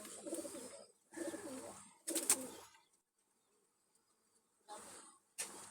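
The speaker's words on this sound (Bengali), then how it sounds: "চোখ হলুদ গ্রুপের কবুতর।" Yellow-eyed pigeons in a group coo in several low, throaty bursts separated by short quiet gaps, close and fairly soft.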